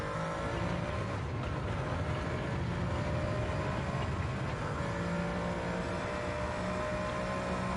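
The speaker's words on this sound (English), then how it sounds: "His car's revving very slightly higher." A modified car engine revs steadily, a continuous low drone with slight pitch rises at an Autocare motorsport event, loud and unbroken throughout with no talk over it.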